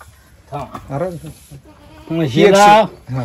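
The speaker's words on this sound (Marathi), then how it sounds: "आता ही शेळी आपली विकायची आहे" A female goat bleats several times nearby at a sale, wavering cries, the longest one loud and quavering.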